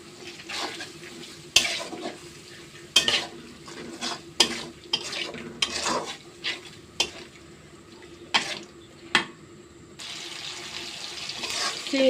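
Shrimp stir-fried with spices, ginger and garlic in a pan, with a steady soft sizzle under repeated sharp scraping and stirring strokes close by.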